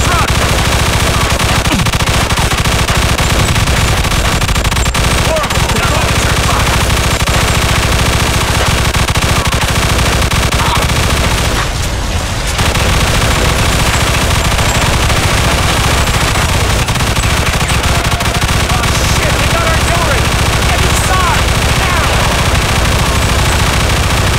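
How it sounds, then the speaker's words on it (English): A mounted machine gun in the Mafia Trilogy Definitive Edition game fires loud, sustained automatic bursts throughout, dense and continuous, with one brief pause near the middle before the rattling resumes. "See that gun on the balcony, Skeletta? Get on it!"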